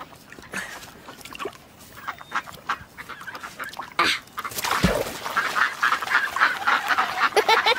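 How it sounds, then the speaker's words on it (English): Ducks quack and honk in a busy outdoor chorus, calls overlapping irregularly, growing louder and denser in the second half. "so Lola and I can feed the ducks"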